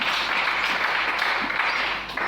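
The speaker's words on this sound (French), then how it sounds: "Est-ce qu'on peut acclamer le Seigneur?" Church congregation applauding in acclaim of the Lord, a steady dense wash of clapping that holds at even loudness for the whole stretch and eases off slightly near the end.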